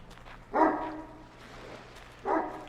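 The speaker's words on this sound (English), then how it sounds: "Did someone lock a dog in this box?" A dog shut in a box in the IT HIDES IN THE FOREST video game barks twice, a couple of seconds apart. The barks sound muffled and moderately loud over a low ambient hum.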